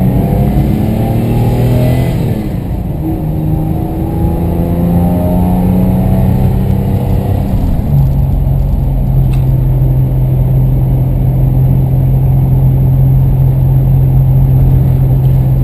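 A 1990 Isuzu Trooper engine, warmed up and running on an aftermarket MegaSquirt fuel setup, holds a steady high idle and then revs up and settles. The drone is loud and close and runs continuously with no talking.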